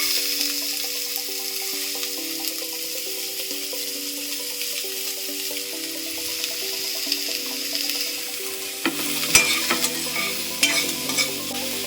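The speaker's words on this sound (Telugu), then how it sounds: "లో ఫ్లేమ్లో పెట్టుకుని వేపుకోవాలి" Onions frying with cumin in two spoons of oil on a low flame, a steady close sizzle with spatula stirring and scraping that grows busier toward the end, no voices.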